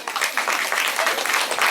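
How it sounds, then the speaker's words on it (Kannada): A church congregation claps loudly after a preacher calls for it, a dense burst of many hands applauding together for a couple of seconds with no speech. "ನಿದ್ದೆ ಮಾಡೋರೆಲ್ಲರೂ ಗಟ್ಟಿಯಾಗಿ ಒಂದ್ಸಲ ಚಪ್ಪಾಳೆ ಬಿಡ್ರಿ"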